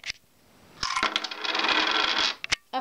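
Coins pour out of a Sweet Machine vending machine coin tray, a dense metallic jingling cascade lasting over a second, framed by a few single clinks, close and loud with no talk.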